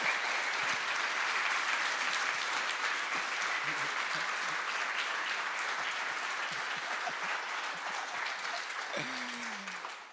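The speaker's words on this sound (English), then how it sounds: "So again, round of applause for Andy for helping make this." A conference audience at the OBTS v6.0 closing session in Marbella, Spain, applauds: sustained dense clapping from a large crowd that slowly thins toward the end, where a voice briefly cuts in.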